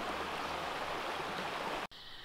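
A chalk ghyll stream rushes steadily over rocks, a dense close wash of water that cuts off abruptly near the end into a quieter flow.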